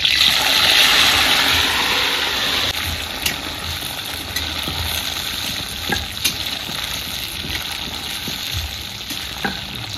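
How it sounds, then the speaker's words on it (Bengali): Green beans and flat beans fry together in hot oil, a steady dense sizzle running throughout with scattered small pops and crackles, loud and close, no voices. "বিনস আর সিম একসঙ্গে ভেজে নিচ্ছি।"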